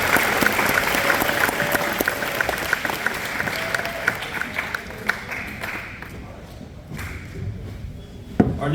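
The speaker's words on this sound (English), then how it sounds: "Go ahead and give them a round of applause." A crowd at a fall football and cheer awards night claps for the all-conference selections, a loud, dense round of applause that gradually thins out, with a few scattered claps and thumps toward the end.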